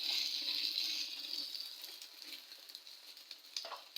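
Eggs sizzling in a frying pan as they are flipped, a steady bright hiss that eases slightly, with a small clatter near the end; quiet and without talk.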